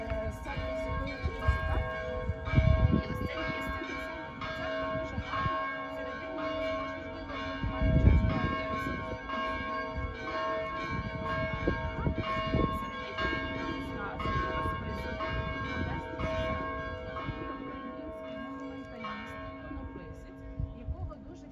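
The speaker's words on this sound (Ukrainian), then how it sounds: "Зараз відбивають гарно е, дзвони" Church bells ring on in Ukraine near Boryslav and Drohobych, a dense, steady peal of overlapping bell tones with strong hum and occasional heavier strikes, sustained and fairly loud throughout.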